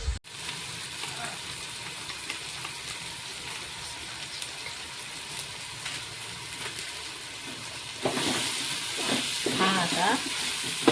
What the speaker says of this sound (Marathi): टमाटो टाकून देऊ थोडं सॉफ्ट होईपर्यंत परतो